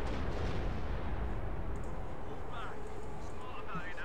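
Artillery shelling rumbles in the WWII strategy game Company of Heroes with British forces, a dense low roar of explosions and gunfire blending under continuous talk, with brief whistling shells near the end.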